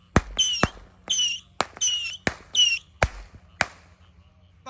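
A 25-shot roman candle fires on a Ramadan night outdoors: a rapid series of sharp pops, several trailed by shrill whistling, about eight shots spaced under a second apart, then quiet.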